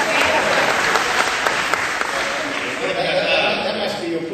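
An audience at a Cannes Lions 2009 talk breaks into loud, dense applause that fills the room and then gradually thins, with voices talking over it.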